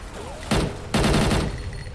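Gunfire in the shooter game XSHOT: two loud, close bursts of rapid shots in quick succession, the second longer, then a fading tail.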